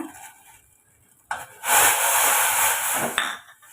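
After a quiet moment, a spoon stirs ragi flour into boiling water in a pot with a loud, continuous scraping and rubbing that lasts a couple of seconds, then stops.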